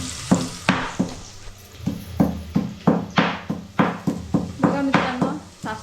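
Onions fry in a pan for mutton curry while a spatula scrapes and knocks against the metal in a quick, regular rhythm of about a dozen strokes, loud and close over a soft sizzle.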